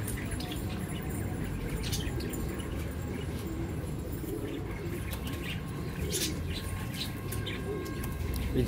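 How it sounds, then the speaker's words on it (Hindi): A pigeon sitting in a bush gives soft cooing calls amid faint chirps and scattered rustles, fairly quiet against a low background murmur with no one speaking. "ये झाड़ में है कबूतर"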